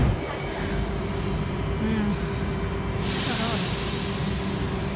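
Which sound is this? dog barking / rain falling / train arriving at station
train arriving at station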